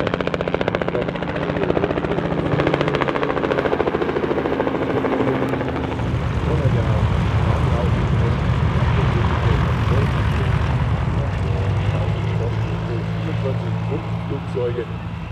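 A vintage Fokker E.III monoplane flies over a grass airfield, its engine a loud, continuous droning roar that stays close throughout with little change in level.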